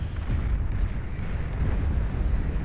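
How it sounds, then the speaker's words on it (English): Long-range quad-barreled plasma cannons firing in the strategy game Beyond All Reason during an 8v8 deathmatch, a dense, continuous rumble of booming, overlapping blasts, loud and low-heavy throughout. "those Astraeus firing away with their long-range, quad-barreled plasma cannons"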